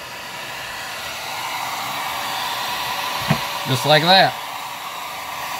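A heat gun blows a steady, even whoosh while heating the aluminum receiver of a Ruger 10/22 rifle to free the barrel; the airflow runs continuously throughout, and someone speaks briefly near the end.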